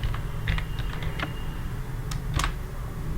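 Computer keyboard keys click in quick, uneven bursts while entering a formula in an OpenOffice Calc spreadsheet, fairly close, over a low steady hum.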